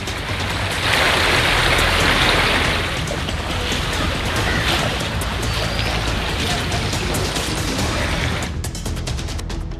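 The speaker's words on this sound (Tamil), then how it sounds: "நாகர்கோவில் சுற்றுவட்டாரத்தில் கனமழை கூட்டி தீர்த்தது" Heavy rain falls around Nagercoil, with flooding on low-lying roads and around parked cars; a loud, continuous roar of downpour fills the scene, swelling early on and easing slightly near the end, with no one speaking.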